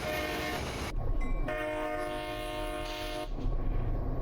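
A GP38-2 diesel locomotive on the Arlington and Lewiston Railroad in Train Sim Classic sounds its horn in two blasts, first short and then long and sustained, over a steady engine rumble and rail noise.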